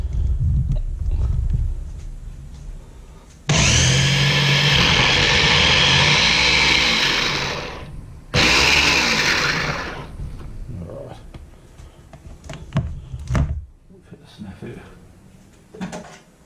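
Small blender whizzing vegan burger ingredients in two loud bursts, the first about five seconds long, then a short pause before a second shorter run, with quieter clattering and handling noises around them.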